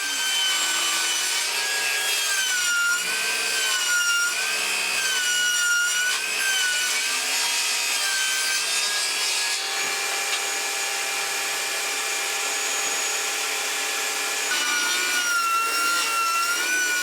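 A power saw rips MDF sheet into strips inside a tent workshop, a steady high whine with wavering pitch that carries on continuously, close and loud, without talk.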